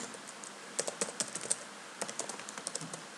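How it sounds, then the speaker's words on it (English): Quiet, close typing on a computer keyboard, a loose run of light key clicks in short bursts with brief pauses, ending on a slightly louder keystroke. "We type something"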